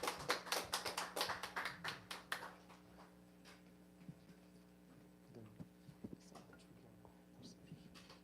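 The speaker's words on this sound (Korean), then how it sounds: "박수로 맞이해 주시겠습니다" Applause from a church worship gathering welcomes a discipleship training team to the front. It comes as a dense burst of clapping for about two and a half seconds, then fades to a few scattered claps.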